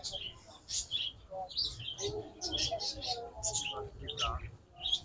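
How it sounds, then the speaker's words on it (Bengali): Budgerigars chirp and twitter in quick, scattered bursts at a park aviary in Natore, Bangladesh, over a noisy background with people talking nearby. "বাজরিকা পাখি"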